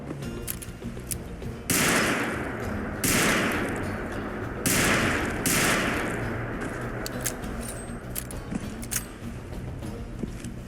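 Revolver-style hand cannon from a Fallout 4 weapon mod fires four loud, sharp shots in a video game, each with a long booming decay, spaced about a second apart, followed by quieter clicks and handling noises.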